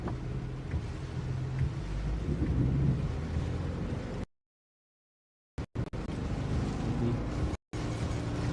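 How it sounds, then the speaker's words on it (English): Deep thunder rolls low and heavy during a thunderstorm in Wisconsin under a steady rumble. It cuts to silence partway through, then returns in short bursts. "I keep hearing strikes and really deep thunder behind me."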